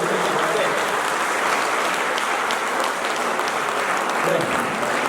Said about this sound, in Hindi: एक बार आगे से लेकर पीछे तक आपकी तालियां